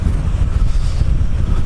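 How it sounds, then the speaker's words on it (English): Steady wind buffeting a microphone on a beach, a loud continuous low rumble with gusty fluctuations and no voices. "It's kind of windy today"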